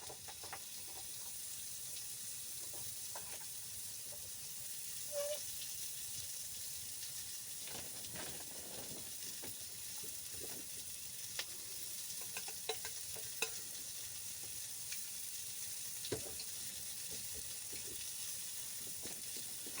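Onions frying in a pan on a wood stove at a freezing-weather campsite give off a steady, fairly quiet sizzle, with scattered pops and stirring scrapes throughout.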